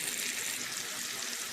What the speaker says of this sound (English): So the chicken is still cooking.